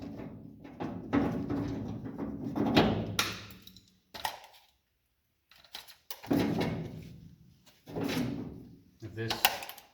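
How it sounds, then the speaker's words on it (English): Inside handle and door latch being removed from a 1974 car door, with several scattered clunks, clicks and thunks of metal parts close by, mixed with talking between them. "we can concentrate on the handle, the inside handle, and the door latch"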